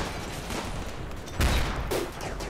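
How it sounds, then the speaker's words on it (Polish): Bursts of gunfire in the modded colony game Rimworld, a sustained rattle of shots with two sharper, louder reports near the end. "No i on znowu strzela, jak gdyby nigdy nic."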